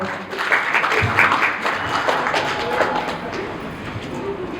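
Audience at a family celebration for a father's 61st birthday clapping loudly for a couple, a dense, steady wash of applause with some crowd noise mixed in throughout.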